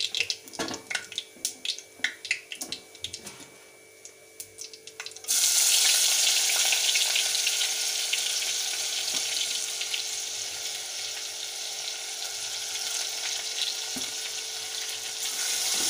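Cumin seeds and crushed ginger-garlic dropped into hot oil in a clay pot, after mustard seeds have crackled, for dal palak: scattered crackles give way to a loud, steady, close sizzle that holds on alone.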